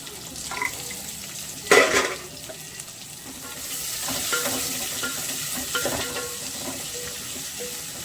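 Onion, carrot, tomato and green chilli frying in a pan for bagara rice, a low continuous sizzle with one loud scraping stir early on and quieter stirring later, heard close with no voices.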